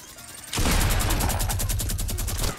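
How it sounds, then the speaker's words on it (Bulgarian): A minigun in the Fortnite video game opens up after a brief quiet moment, unleashing a loud, continuous stream of rapid-fire shots with a fast, regular pulse that carries on to the end. "Този ни разпраса с минигъна"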